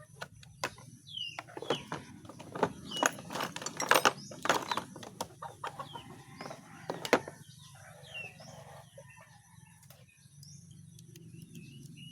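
Chickens cluck and chatter nearby in irregular bursts, busiest early on, with faint rustling and a steady low background hum.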